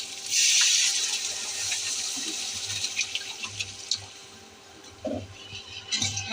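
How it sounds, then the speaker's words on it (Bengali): Water poured from a container into a pan of fried spices for a beef tripe bhuna, a steady rushing pour near the start that tapers off, followed by scattered clinks and faint kitchen handling noises. "এখন পানি দিয়ে দিলাম"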